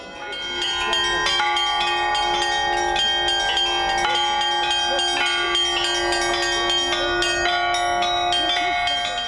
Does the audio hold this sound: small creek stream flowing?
no